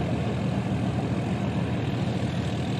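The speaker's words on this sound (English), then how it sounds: "I can hear an engine, a boat engine" Low, steady drone of a boat engine running out at sea beyond pots set for lobster and crab, a constant rumbling idle with no breaks, fairly loud and unchanging.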